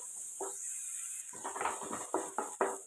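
Onion and green chili sautéing in a pan, a faint steady sizzle under a run of close, sharp clinks and scrapes of a spoon against the pan, coming in quick bursts.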